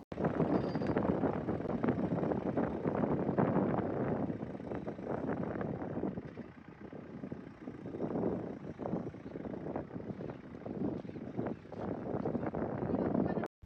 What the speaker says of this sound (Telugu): జొన్నలు కందులు వేయడానికి ట్రాక్టర్తో దున్నిస్తున్నాము